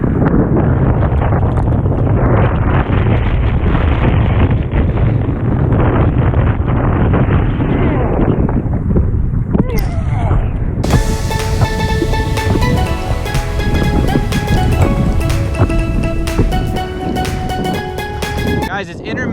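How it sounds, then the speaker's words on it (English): Strong, gusting wind on a lake during a paddle-boarding outing roars across the microphone as a loud, buffeting rumble for about ten seconds, then drops away behind steady tonal sounds. "it's intermittently windy"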